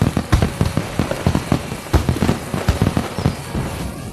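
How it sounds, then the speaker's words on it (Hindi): Dense, rapid crackling bursts of firecrackers going off in quick irregular succession, loud and continuous throughout. "क्या तुम्हें पटाखों का शोर सुनाई दे रहा है?"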